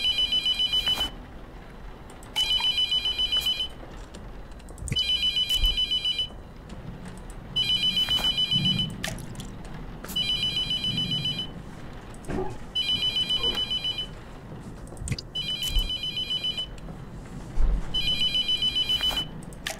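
Telephone ringing in the horror video game The Mortuary Assistant, sounding in eight regular bursts of about a second each with short gaps between, steady and fairly loud over a low murmur of background room noise.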